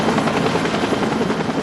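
A medical rescue helicopter flies overhead, its rotor producing a loud, steady, fast-pulsing chop throughout a short stretch.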